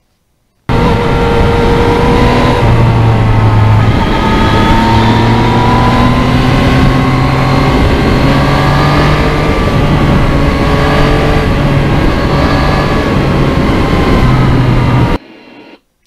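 A 2020 Yamaha MT-09 crossplane triple motorcycle is ridden on the road, its engine humming loudly and continuously with gently wavering pitch as the throttle shifts, cutting off abruptly near the end.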